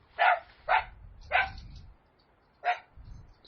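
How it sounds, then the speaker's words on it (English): Dogs bark in sharp, separate bursts, four distinct barks spaced unevenly across a few seconds, close and fairly loud with quiet gaps between them. "I don't know what is wrong with my dogs. They hear something."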